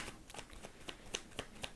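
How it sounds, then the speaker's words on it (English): Tarot cards are shuffled by hand in a soft, rhythmic series of quick riffling taps, faint and close, with no talking. "Make me shuffle a million years."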